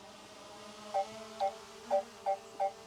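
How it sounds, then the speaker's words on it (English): A faint, steady mechanical hum from a hovering drone, with a few short electronic beeps spaced about half a second apart. "it's hovering, so it isn't going to be as quiet as you'd expect it to be"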